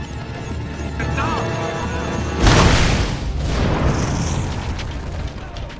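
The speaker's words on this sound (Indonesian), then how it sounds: "setelah ledakan itu," A bomb explodes in an action film scene, a deep booming blast after a low rumbling lead-in, loud and followed by lingering roar and debris noise.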